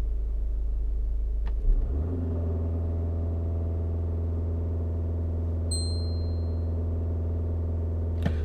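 A car engine held at 2500 RPM hums steadily at a constant, moderate pitch, a low continuous drone inside the cabin with a brief chirp partway through.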